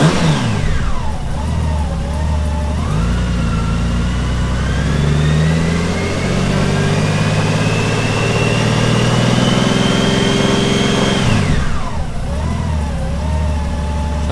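A motorcycle engine just after a spark plug change, running steadily and loud throughout. It settles toward idle, with a brief rise in revs at the start and a drop in pitch near the end.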